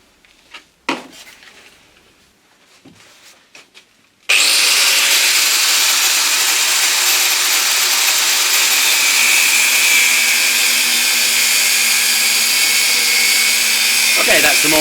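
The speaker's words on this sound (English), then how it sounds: "So let's get that in the vise and get the angle grinder on it." An angle grinder bites into a metal wheel hub clamped in a vise, a loud continuous screeching grind that runs unbroken for about ten seconds after a few quiet clunks of setup.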